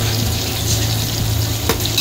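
Steady hissing sizzle of onions frying in a hot pan, with occasional small pops and a low hum underneath.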